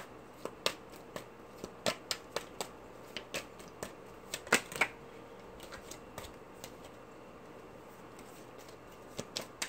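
Tarot cards are shuffled and flipped in a steady run of crisp, papery riffles and snaps, close and fairly quiet, with one louder flurry partway through and no talking.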